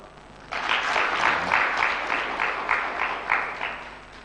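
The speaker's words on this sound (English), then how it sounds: "these people should give you a clap" Applause from an audience at an International Youth Day celebration starts abruptly after a quiet half second, then continues as moderate, fairly steady clapping with a rhythmic pulse, heard from a short distance.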